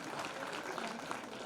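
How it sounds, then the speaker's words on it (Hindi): Soft, steady audience applause at a community talent award ceremony, a fairly quiet, continuous clapping wash lasting a moment. "जोरदार तालियां प्रदीप के लिए।"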